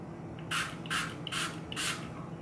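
A small spray bottle pumped four times, each pump a short, sharp hissing spritz at a steady rhythm about a third of a second apart, close by with quiet room noise between.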